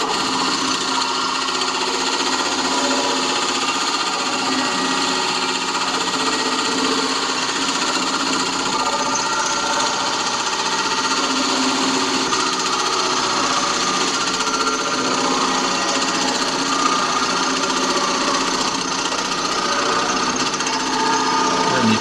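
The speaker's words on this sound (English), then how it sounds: "so I'm going to face off the end of the block of wood which is uneven" A wood lathe spins steadily while a parting tool faces off the uneven end of a wooden block, producing a continuous loud whirring and scraping drone with no speech.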